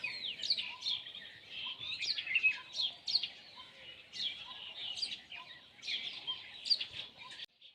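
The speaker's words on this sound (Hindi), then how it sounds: "सुबह से उठने के साथ ही पंछियों की चहचहाने की आवाज़" Birds chirping on a village morning, many quick bright tweets and calls overlapping at moderate distance in an otherwise quiet open-air setting.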